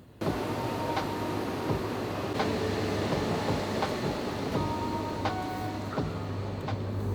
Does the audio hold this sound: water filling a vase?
no